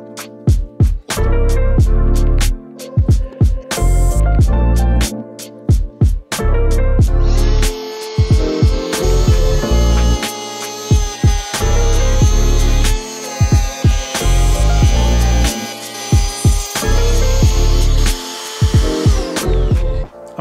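Power tool cutting across a wooden board, loud and close, in repeated bursts of whirring with short pauses between passes, a steady high whine through the middle stretch.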